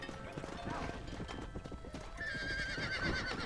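Horse hooves clip-clop steadily on a dirt road in the video game Red Dead Redemption while herding cows, with a whinny near the end and faint game voices underneath.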